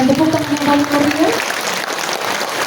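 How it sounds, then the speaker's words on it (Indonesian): A concert audience applauds the Laurentius Symphony Orchestra at its 20th anniversary concert, with a dense wash of clapping that takes over after a brief voice at the start. "Sekali lagi kita berikan tepuk tangan yang paling meriah."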